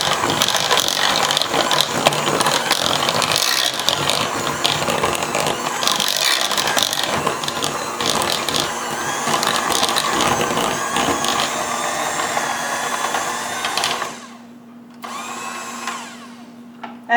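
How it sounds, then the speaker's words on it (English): A heavy-duty hand mixer beats thick gluten-free banana muffin batter with a loud, continuous grinding whir and rattling beaters, then cuts off near the end, leaving a faint hum. "Now you know why I have a heavy-duty hand mixer, because I do crazy stuff like this with it."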